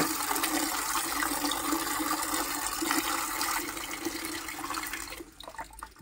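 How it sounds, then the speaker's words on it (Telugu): Tap water gushing steadily from a PVC tap after it is turned open, a loud, close, continuous hiss and splash that thins out and drops away near the end. "ఇది తిప్పితేనే వస్తాయి మనకి నీళ్ళు."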